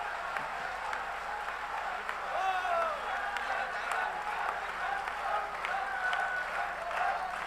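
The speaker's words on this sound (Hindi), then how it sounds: "निपट करके जरा आपकी तालियां उठे" An audience at a Hindi heroic-poetry recital gives a long round of steady applause, a dense crowd clapping that holds even throughout, with a few voices murmuring over it.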